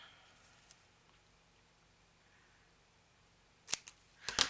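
Scissors snip through string on a handmade paper bag mini journal, giving a few sharp, close cuts near the end after a mostly quiet stretch.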